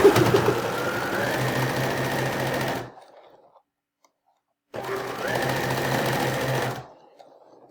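Sewing machine stitching a row of a sawtooth quilt block, running in two steady loud whirring bursts of about three and two seconds with a pause of near silence between them, close up.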